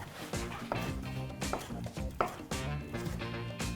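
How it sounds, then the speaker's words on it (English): Knife cutting fried tofu into angled slices on a board, a run of close, crisp chops in quick uneven rhythm with a faint clink of pans. "So I want to cut it up into kind of slices"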